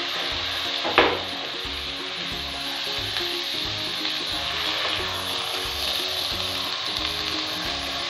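Boiled chickpeas hit a hot pan with a sharp burst of sizzling, followed by a continuous, crackling fry hiss close by. A faint clatter of utensils comes through against a low repeating background pulse.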